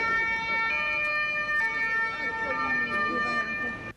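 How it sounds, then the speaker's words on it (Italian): Steady, loud wailing police car sirens sound close by with a constant tone in Venice, accompanied by faint background voices and traffic noise. "Il suono delle sirene ne precede l'arrivo."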